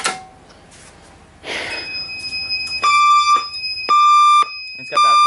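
A Firelite fire alarm sounds during a system test, loud high-pitched electronic tone pulses in an on-off pattern, preceded by a few brief knocks and a short rush of noise.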